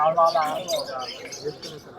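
Quails at a bird market in Margilan, with short chirps and calls over a stretch of close, busy chatter from people nearby.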